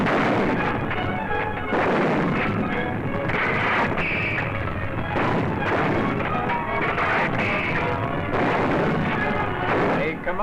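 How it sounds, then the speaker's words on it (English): Artillery guns shell German positions across a valley in Sicily in 1943, a continuous roar of booming blasts and crashes, loud and dense, under a narrator's voice speaking throughout. "With deadly accuracy, the gunners hurled death and destruction across the valley, smashing the German positions."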